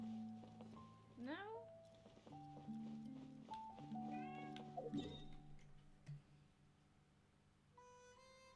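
A cat meows in Genshin Impact, two rising, wavering calls near the start and middle, set against steady game music tones with no one talking.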